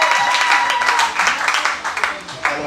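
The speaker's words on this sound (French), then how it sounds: "Applaudissons une bénédiction." A church congregation claps together during a worship service, a dense spread of hand claps sustained across the moment with a voice carrying over it.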